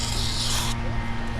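A blade being sharpened gives a steady, close rasping scrape that stops abruptly partway through, leaving a low background hum.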